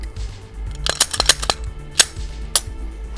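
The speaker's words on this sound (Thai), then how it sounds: "ปลดแมกกาซีนเคลียร์ปืน" A Glock 17 pistol being cleared, with a rapid series of sharp metallic clicks and clacks as the magazine is removed and the slide worked, close and loud with no talking.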